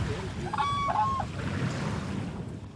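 Sandhill crane calls in Texas, a few rolling, bugling notes ringing out early in the clip over a steady, noisy outdoor background.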